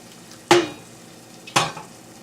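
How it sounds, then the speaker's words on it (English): Two short bursts of sizzling as splashes of kettle-heated hot water hit a sauce in a hot pan, each hiss flaring and fading, about a second apart, with no talking. "I'm just going to add a little splash of that,"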